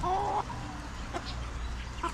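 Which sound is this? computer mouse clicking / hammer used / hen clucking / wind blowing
hen clucking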